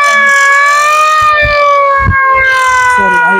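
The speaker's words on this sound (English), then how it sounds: "This is an alarm." A loud, sustained siren wails steadily with a slight rise and fall in pitch, heard up close at a village or municipal setting, with some faint background thumps and noise beneath it.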